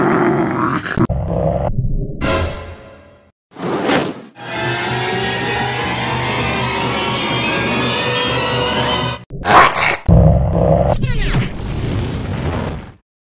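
A dog growls and barks in a comedy skit, its rough snarls and barks mixed with loud bursts and stretches of sustained noise, and people talk around it.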